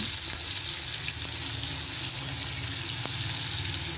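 Chopped tomato with salt and whole cumin sizzling steadily in hot oil, a continuous loud fry with faint stirring scrapes and a few soft clicks, no voices.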